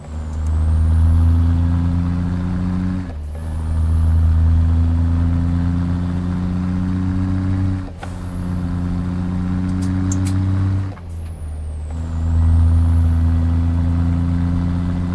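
Big Cam Cummins truck engine in American Truck Simulator, a loud, steady diesel drone held near and alone, with three brief dips where the revs drop during gear shifts before the rumble pulls back up.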